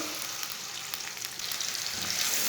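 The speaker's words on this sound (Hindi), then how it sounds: "ऑयल हमारा गर्म हो चुका है। एक बारीक कटा हुआ प्याज डालेंगे।" Finely chopped onion sizzling in hot oil, a steady close crackle and hiss that swells slightly toward the end, with no voices.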